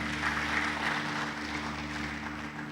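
A church congregation applauds during a Sunday service, a steady wash of clapping at moderate level over a low sustained hum, with no voices standing out.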